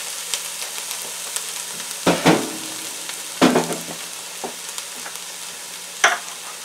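Scallion and broccoli stir-fry in a hot pan for vegetarian Chinese fried rice, with a steady sizzle broken by several loud scraping stirs and clattering tosses, and no talking.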